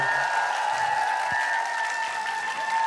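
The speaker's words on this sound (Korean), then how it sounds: "반갑게 박수 쳐주셔가지고 감사합니다." An audience at a KBS Daegu talk concert gives a singer-songwriter a steady, continuous round of applause, even and sustained throughout.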